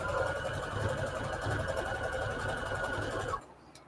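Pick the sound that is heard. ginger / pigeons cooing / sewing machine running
sewing machine running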